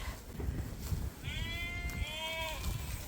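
A sheep bleats from inside a narrow barn where rams and replacement ewes are being moved, one drawn-out wavering call in the middle over rustling and shuffling background noise.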